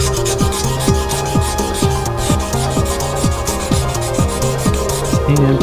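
Steady rhythmic rasping of 400-grit sandpaper rubbed back and forth on a metal car wheel, loud and close, strokes repeating at an even pace.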